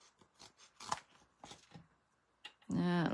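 Scissors snip through paper strips for a handmade birthday card, a few crisp cuts mixed with close talking, ending in a sustained buzzy tonal sound.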